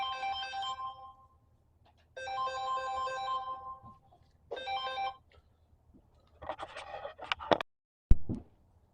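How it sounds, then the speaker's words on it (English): Mobile phone ringtone ringing in three repeated melodic bursts with pauses between, close and clear, followed by brief rustling handling noises. "so my phone rang and I had to answer it"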